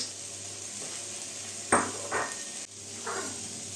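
Browned rice with peas in a pan, heard as a quiet continuous sizzle with a few stirring scrapes and utensil clinks spaced about a second apart, and no speech.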